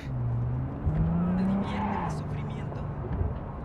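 Car driving in Cyberpunk 2077, a steady low engine drone with slight pitch rises and falls, mostly under ongoing talk.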